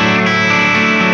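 A heavily distorted electric guitar chord rings out loud and sustained, thick with crunchy overdrive, played through a Two Notes Torpedo C.A.B. simulating a 5150-style speaker cabinet.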